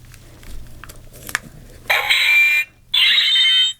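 A cheap light-up ninja sword toy, motion-triggered, fires two harsh electronic bursts, each under a second long with a short gap between them, after some faint handling noise.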